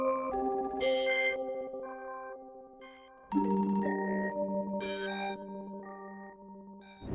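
Synth chords run through the Fragments machine gunner preset with chorus, stuttering in choppy rhythmic bursts of shifting pitches, moderately quiet with no voices.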